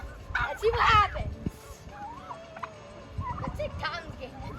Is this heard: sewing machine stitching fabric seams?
no